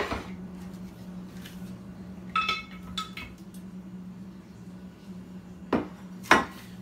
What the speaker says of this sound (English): Add this meat in this crock pot.